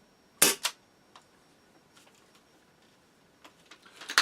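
A TM M320A1 airsoft grenade launcher fires once with a sharp, loud close pop, followed by small mechanical clicks and handling taps of the launcher, then a cluster of rattling handling noises at the end.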